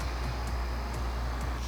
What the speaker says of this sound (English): So you guys may hear the air conditioner,